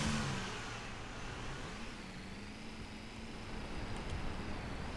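A snow plow truck fitted with tire chains drives in Snow Plowing Simulator, its engine droning steadily with a low hum and broad road noise, a brief louder rev at the start.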